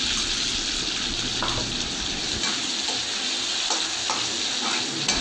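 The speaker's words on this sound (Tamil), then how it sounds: "அப்புறம் வெங்காயம் போடணும். திரும்பி நம்ம வதக்குன்னு வதக்கணும்." Onions sautéing in an oil-filled pan for vendakkai vatha kuzhambu, a steady loud sizzle with occasional scrape-and-stir strokes running throughout, no talking.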